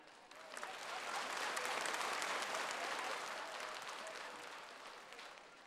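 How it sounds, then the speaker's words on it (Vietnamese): Warm applause from the audience at a televised dance competition gala final, a dense, even roar of clapping that swells quickly, holds steady and then slowly eases off. "Xin một tràng pháo tay đồng nhiệt."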